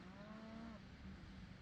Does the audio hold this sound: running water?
no